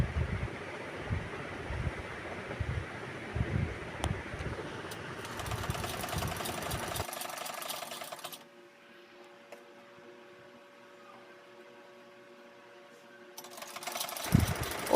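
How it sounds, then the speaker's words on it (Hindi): Domestic sewing machine stitching a folded half-inch side seam on a kurti, a steady close whirring run that cuts off partway, leaving a quiet low hum before the stitching starts again at the end. "इस तरह से आधा इंच मोड़ते हुए सिलाई करनी है"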